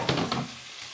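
During a home cooking challenge, food fries in a hot pan with a steady crackling sizzle, alongside a few soft clatters near the start, heard close up with no talk.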